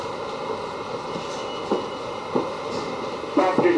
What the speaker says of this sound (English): the Brooklyn-bound N train.